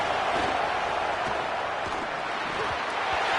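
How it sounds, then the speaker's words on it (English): A stadium crowd at a college football video game between Ohio State and Florida roars steadily on third down, a dense continuous wash of cheering heard at a moderate distance. "The Buckeye crowd alive on third down."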